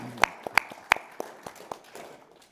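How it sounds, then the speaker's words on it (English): A handful of sparse, separate claps ring out at a resident board meeting, a few sharp near hand claps followed by softer scattered ones, with no sustained applause. "Let's give a little applause here."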